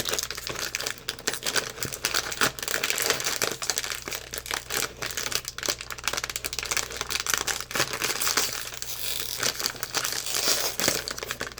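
Matcha Kit Kat wrapper being torn open, a close, loud, continuous crinkling and crackling of plastic film for about twelve seconds with no talking.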